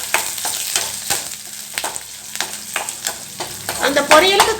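Broken dried red chillies sizzle in hot oil for a pumpkin poriyal, with sharp clicks of a stirring spoon against the pan over a continuous crackle.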